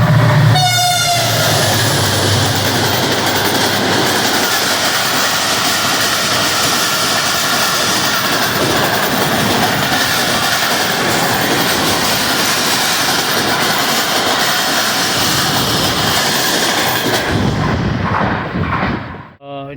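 A high-speed train roars past Jhampir railway station in Pakistan at night, loud and close for nearly twenty seconds with rattling wagons and a brief horn at the start, then cutting off abruptly at the end.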